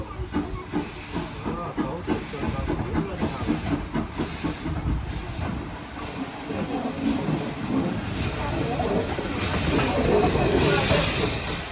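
The steam locomotive Sir Berkeley chuffs and hisses nearby while running round its train on the Middleton Railway, with rhythmic puffs and rolling rail noise that swell louder toward the end.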